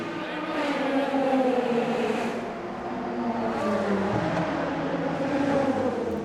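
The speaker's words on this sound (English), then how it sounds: "Albert Costa has got the car fired up again." A Hypercar race car engine at the 8 Hours of Bahrain running after a restart, a sustained mid-distance drone with shifting pitch as revs rise and settle, under faint background noise.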